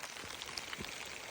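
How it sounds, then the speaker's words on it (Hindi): Heavy rain pours steadily on a Himalayan meadow near Khaliya Top, Munsiyari, in Uttarakhand, a dense continuous hiss of drops with a few louder spatters, close and even throughout. "बहुत तेज़ बारिश हो रही है।"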